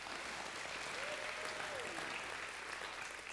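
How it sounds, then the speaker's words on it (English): A church congregation applauds steadily for a few seconds, a dense, even wash of clapping from many hands that neither builds nor fades. "Y'all clap for Ben as he goes back"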